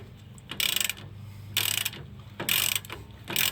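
A ratchet loosening a 21 mm brake bracket bolt on a 2002 Dodge Ram 1500, four loud, close bursts of rapid clicking, each about a third of a second, separated by short pauses.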